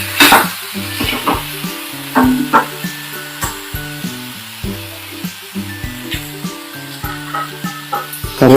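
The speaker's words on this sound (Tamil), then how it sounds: "நல்லா வதக்கி விட்டுக்குங்க." Onions and tomatoes sauté in a frying pan for a village-style dish, a loud close sizzle with rhythmic spatula stirs and scrapes, heard under background music.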